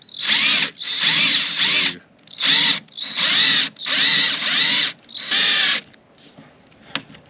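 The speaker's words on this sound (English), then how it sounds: "so now for the fun part, drilling the holes." A power drill bores mounting holes for a 2024 Suzuki DF20A 20 HP outboard motor, whining loudly and close in about seven steady bursts separated by short pauses, with no talking.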